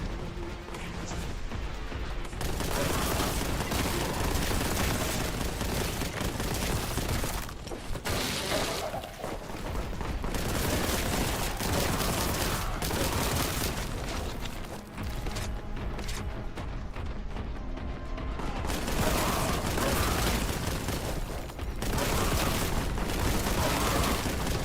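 Relentless gunfire and explosions from the video game Warhammer 40,000: Boltgun, loud and dense throughout with crashing blasts and shattering impacts layered over one another, no speech.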